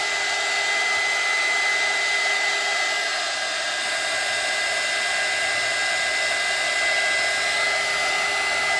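A hair dryer blows steadily and loudly at close range, drying resin on bunny art made with glass and buttons, an unbroken whooshing drone with no speech.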